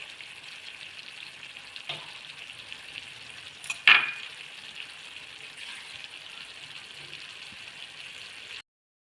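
Ginger, onion and chili paste frying in a pan for Onam sadya inji curry, a steady sizzle with a sharp burst as it is added, then continuing evenly before cutting off.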